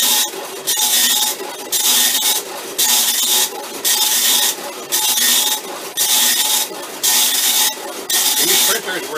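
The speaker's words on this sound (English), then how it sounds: "These printers were loud, by the way." Commodore PET-era vintage tractor feed printer printing in loud, regular bursts of raspy mechanical chatter, each pass about a second long with short pauses between, close and continuous across the clip.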